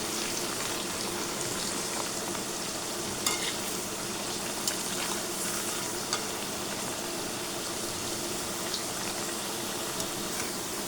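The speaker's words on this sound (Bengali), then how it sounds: "আলুগুলোকে অল্প আঁচে রেখে ভালো মতো করে ভেজে বাদামি লাল করে ভেজে নিতে হবে।" Potato slices for homemade chips fry in oil over low heat, giving a steady, close, dense sizzle that holds level throughout with small crackling pops and no voices.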